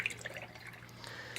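A watercolor brush is rinsed in a small container of water, making faint, soft drips and light splashing taps scattered across a quiet moment.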